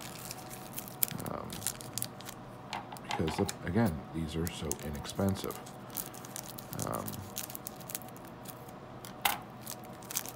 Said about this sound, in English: I'm not worried about cutting it open with scissors.